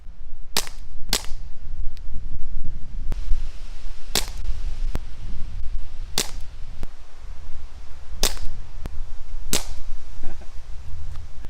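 A revolver airgun fires darts at a target from ten paces: about six sharp, snappy cracks spaced a second or two apart, with small clicks between them and no talking.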